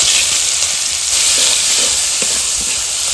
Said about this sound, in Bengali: পেঁয়াজটা হালকা লাল লাল করে ভেজে নিয়েছি